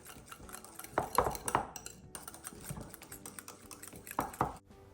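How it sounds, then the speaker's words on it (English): Pasta salad dressing whisked in a bowl, a quick run of light clinking and tapping strokes that speeds up in short bursts, close and fairly quiet, with no voices. "then you just whisk it up and combine it well"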